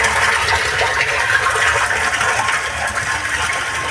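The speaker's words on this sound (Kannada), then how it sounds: "120 ಅಡಿ ಆಳದಿಂದ 3 ಫ್ಲೋರ್ ಮೇಲ್ಗಡೆ ಈ ಥರ ಪ್ರೆಷರಲ್ಲಿ ನೀರನ್ನ ಪಂಪ್ ಮಾಡ್ತಾ ಇದೆ" A 1.5 HP, 14-stage Lubi motor drives water up from 120 feet to three floors above, and the outlet gives a steady, loud rushing gush under pressure that runs without a break.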